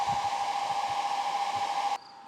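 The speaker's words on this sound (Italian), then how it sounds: "l'asciugacapelli sta continuando a funzionare con il pannello collegato che sta caricando" A hair dryer runs on a Bluetti AC60 portable power station while a 200-watt Bluetti solar panel charges it. It makes a steady, loud whooshing hum that cuts off near the end, leaving a quieter, thinner whine.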